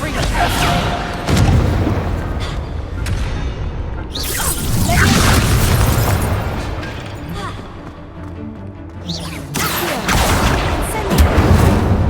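Descendo spell impacts in the video game Hogwarts Legacy, heavy booming crashes and whooshing bursts that come in waves, loud and near, with a voice calling out over the game sound.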